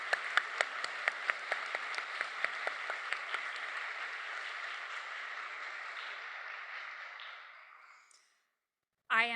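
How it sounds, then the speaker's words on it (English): Audience applause at a museum talk event, dense steady clapping with a few sharp individual claps standing out, gradually thinning and fading out near the end before a brief burst of another sound. "Let's give our friends applause."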